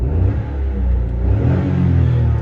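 A small 3-cylinder 1-litre car engine gets a quick rev, its mid-pitched drone rising and swelling briefly before settling back, steady and close.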